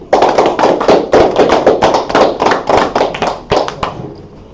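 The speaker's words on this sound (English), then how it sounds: "So clap it up." Congregation at an Atlanta Sabbath day class clapping in a steady, loud rhythm of sharp hand claps, many hands together, ending abruptly with a fading tail.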